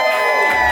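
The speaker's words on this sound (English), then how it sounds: "Very lively crowd tonight." Crowd at a live show cheering and whooping, a short loud burst of shouts and applause that sounds like a small but lively audience.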